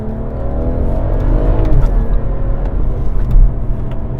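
Stage 3 BMW 135i accelerating hard with traction control switched off, a loud, continuous engine roar with rising pitch and deep rumble, heard up close from inside the car without talk.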